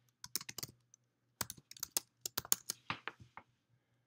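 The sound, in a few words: computer mouse clicking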